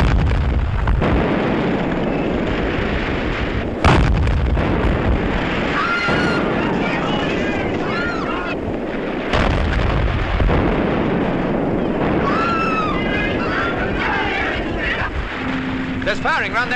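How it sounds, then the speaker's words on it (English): Naval gunfire and shell explosions near a headland, heard from a warship at sea as sudden heavy blasts over a constant loud rumble, with voices talking throughout. "There's firing around that headland."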